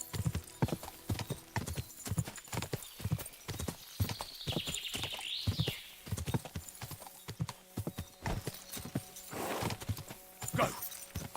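Rhythmic horse hooves clopping along at a steady trot in a video game, close by, with a faint whinny and some background ambience mixed in.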